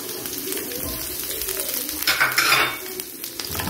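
A chili pepper being fried and stirred in a pan alongside kidneys makes a steady close sizzle. A brief louder crackling swell comes with the stirring, and there is no talk.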